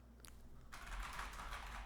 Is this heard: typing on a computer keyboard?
yes